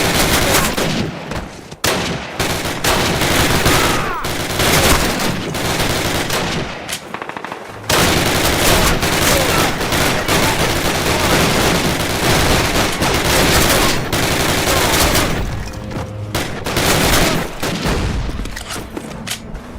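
Heavy, continuous gunfire in the video game Call of Duty: loud overlapping rifle and machine-gun bursts with occasional booms, a brief lull, then more sustained shooting.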